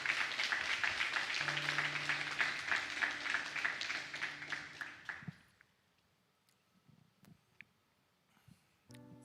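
A church congregation applauding, a sustained wash of clapping that fades out after about five seconds into near silence, with faint voices and a sustained tone underneath.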